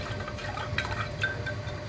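Plain water running and trickling into a summer drink being mixed, a soft continuous liquid splash close by with a few bright drips.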